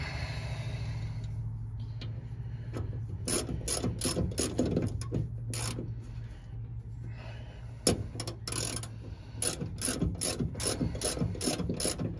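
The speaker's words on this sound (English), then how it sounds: "got them bolts snugged down" A hand ratchet clicks in quick bursts as bolts are tightened on a 1999 Dodge Ram 3500 FASS fuel system install, close and fairly quiet, with repeated rapid pawl ticking between short pauses.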